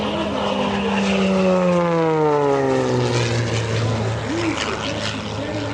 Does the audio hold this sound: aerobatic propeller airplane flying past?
yes